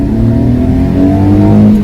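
Honda Acty van engine revving, the small engine mounted right behind the seats, a loud, close, steady drone that climbs and falls slightly in pitch throughout, with no talk.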